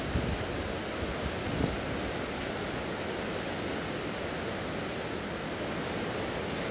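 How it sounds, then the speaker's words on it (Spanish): Swollen Bobos river rushing beneath the Martínez de la Torre bridge in Veracruz, its level raised by Franklin; a steady, dense roar of flowing water fills the whole stretch, close and continuous with no talking. "donde el caudal del río Bobos ha aumentado su nivel."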